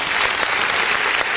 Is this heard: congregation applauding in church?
yes